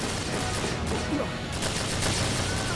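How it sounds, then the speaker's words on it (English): Bullets fired in a Final Fantasy Crystal Chronicles: The Crystal Bearers ship boarding sequence, a dense, noisy barrage of shots and crashes that goes on without letup, with no speech. "don't get hit by bullets"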